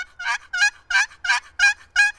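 A wooden turkey box call yelps with the paddle kept on the calling surface: six evenly spaced raspy, high-pitched notes in a steady rhythm, close and fairly loud, with no talking.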